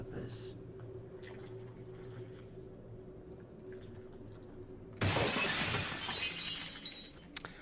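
A loud, sudden shattering crash from the horror game Conarium bursts in after a stretch of low ambient drone, ringing on with bright debris for a couple of seconds, ending in a sharp clink.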